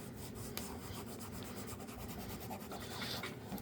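Goo Gone is rubbed over an NES cartridge to scrub off sticker residue, producing a steady, close, continuous rasping scrub with no pauses throughout.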